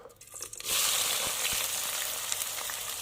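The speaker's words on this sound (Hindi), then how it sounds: "पतीली रखी चूल्हे पे, और इसके अंदर ऑयल ऐड किया, और अब इसमें जो है ये कटी हुई प्याज शामिल करूँगी।" Chopped onions hit hot oil in a pot and burst into a loud, continuous sizzle after a quieter opening with a few clicks, then keep crackling steadily to the end.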